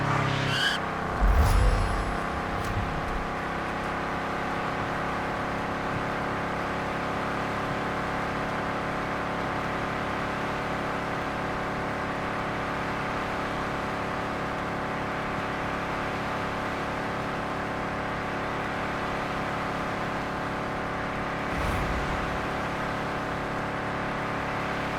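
Racing car engines from the road-trip racing game Heading Out hum as a steady, loud drone with layered harmonic tones, with brief bursts of louder engine noise near the start and again near the end.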